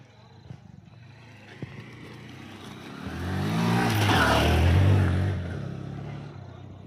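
A car coming down the mountain ghat road near Pratapgarh fort and Mahabaleshwar, its engine rumble swelling to a loud close roar midway and then easing off, with people talking faintly inside.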